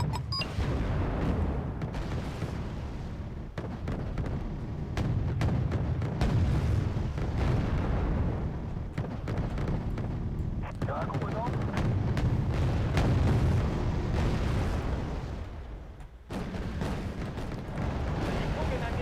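Units firing in the real-time strategy game Wargame: Red Dragon, with a continuous rumble of booms and gunfire layered under a person talking throughout.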